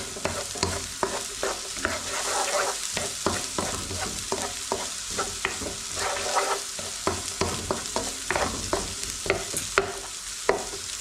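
Chicken frying in a pan with chopped red chilli, stirred with steady scraping clicks over a continuous close sizzle, no voices.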